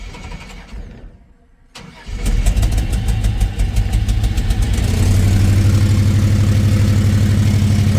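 A 1960s-70s Chevrolet C10 pickup truck engine with a cheap aftermarket exhaust cranks and fires up, then settles into a loud, steady rumbling idle through the exhaust, with no talking.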